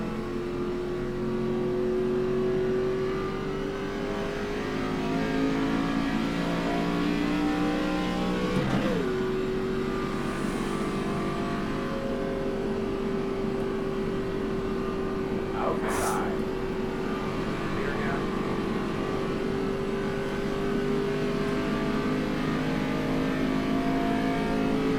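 An ARCA race car engine at speed on a hot, slick racetrack: a sustained high droning whine with upshifts and pitch shifts, heard from inside the car, with occasional talk under it.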